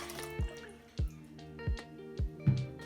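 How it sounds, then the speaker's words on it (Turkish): Water drips and splashes into a cooking pot in a few distinct, evenly spaced plops, close by and fairly quiet, with no talking. "Üzerine de aşağı yukarı 7-8 bardak"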